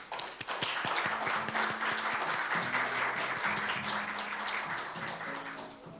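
An opening-ceremony forum audience applauds the ambassadors, a continuous wash of many hands clapping at moderate level, with a faint humming tone running underneath.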